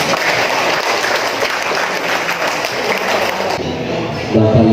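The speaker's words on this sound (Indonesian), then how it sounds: "Tepuk tangan untuk Sumeneb lah." Loud audience applause at the opening of a PPPK orientation at the Ministry of Religious Affairs office in Sumenep, dense sustained clapping throughout, with a voice breaking in at the very end.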